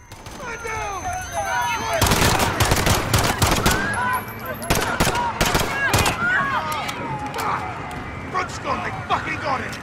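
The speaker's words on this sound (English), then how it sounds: "Shots fired." Heavy gunfire in Call of Duty: Modern Warfare erupts after a couple of seconds of shouting, with sharp, loud bursts of automatic shots repeating close by and voices heard underneath and between volleys.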